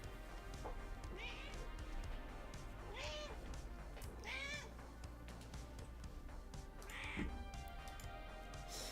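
A cat meows several times in a quiet room, producing short rising and falling cries spread over several seconds, fairly soft against a steady background hum.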